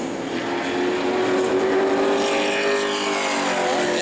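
Engine of a Sportsman race car on a qualifying run at New Smyrna, a loud continuous roar that rises and holds as it pushes through the lap, heard alone without voices.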